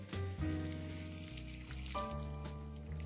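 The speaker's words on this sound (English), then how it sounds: "hear that sizzle?" Chicken sizzles loudly in a hot pan, a steady crackling hiss that swells as fresh pieces hit the oil, with no one speaking.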